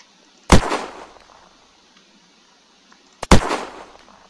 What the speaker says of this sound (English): Let's give the Rack Stack the same treatment as the other ones.